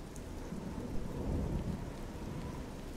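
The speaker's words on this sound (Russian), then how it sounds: "Сейчас мы в Скинграде, по-прежнему идет дождь." Steady rain falling in the fantasy role-playing game Oblivion, heard in the city of Skingrad, a continuous hiss of downpour with a low rumbling bed throughout, no voices.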